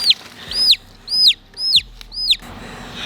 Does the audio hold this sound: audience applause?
no